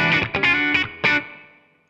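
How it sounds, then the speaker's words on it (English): A clean electric guitar tone modelled on a Super Reverb amp plays a few bright, ringing chords through a ToneX One pedal, then lets the last one decay into a smooth tail, close and alone. "So I'm a clean super reverb,"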